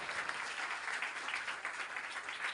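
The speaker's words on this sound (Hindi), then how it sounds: "जोरदार तालियां खुदावंद से जलाल के लिए बजाएं।" A church congregation claps at a Resurrection Day Sunday service, a steady wash of many hands applauding together, fairly soft and even throughout with no voices above it.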